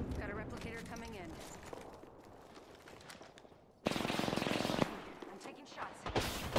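Gunfire in the video game Apex Legends: dense rapid automatic bursts, loud and close, dominating the second half after quieter game sounds and footsteps, with a final short burst at the end.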